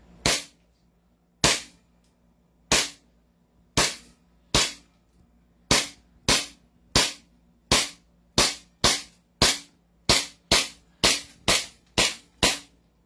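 A KP-16 airsoft gun fires about seventeen sharp, loud single shots, widely spaced at first and then coming faster, each a crisp crack that decays quickly against a quiet background.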